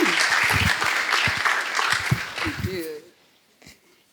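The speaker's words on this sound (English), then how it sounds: "Please give her a round of applause." A workshop audience claps for a few seconds, a dense patter of hands that fades out quickly, with a voice over part of it.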